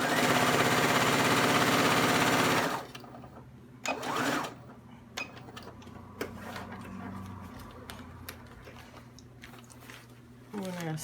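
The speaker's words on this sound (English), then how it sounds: "I'm going to sew down the pockets," A sewing machine runs loud and steady for the first few seconds as it stitches the plastic pockets of a wall organizer. Quieter handling clicks and rustles follow, with a brief burst of stitching at the end.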